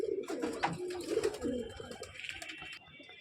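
Several pigeons in a loft coo in repeated throaty, rolling phrases, close and clear, fading toward a quieter end with a faint chirp.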